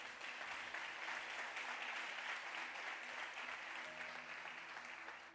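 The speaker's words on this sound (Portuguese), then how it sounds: "Você pode aplaudir a Jesus?" Church congregation applauding Jesus during an evening service, a continuous broad clapping texture heard fairly faint and distant, holding steady and easing slightly toward the end.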